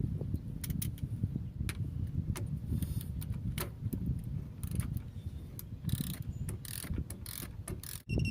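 Ratchet tightening the lower control arm bolt on a 2000–2004 Ford Escape, rapid clicking pawl strokes in irregular bursts, close and clear over a low mechanical rumble.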